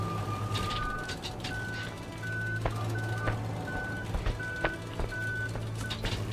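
Car reversing in the video game Human Fall Flat, a steady series of evenly spaced electronic reversing beeps over a low engine hum, with occasional clicks and knocks in the background.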